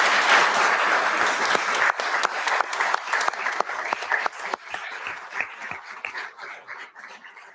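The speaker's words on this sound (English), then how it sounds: "a round of applause for our town council candidates" Audience applause for town council candidates at a community candidates forum on Oak Island, loud and dense at first, then thinning into scattered claps and fading over several seconds.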